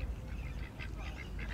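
Ducks in a park gathering for thrown food, giving a few scattered quacks and honks over a steady low outdoor rumble, fairly distant and not loud.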